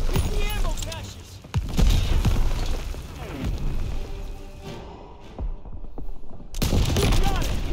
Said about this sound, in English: pick up a scope rifle and hit those packs